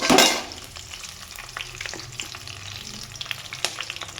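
Spice paste drops into a hot pan with a sharp initial hiss, then settles into a quieter, steady sizzle with light stirring, close and fairly soft.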